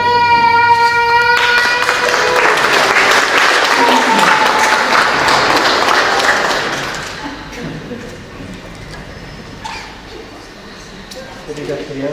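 Congregation applause at a Catholic baptism ceremony for a baby boy, loud sustained clapping in a church that fades after about six seconds into quieter room sound with a few scattered claps, a tonal note ringing early on.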